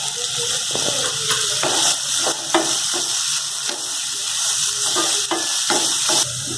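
Finely chopped onion frying in a pan, a loud continuous sizzle with repeated scraping strokes of a spoon stirring through it, close and steady with no speech.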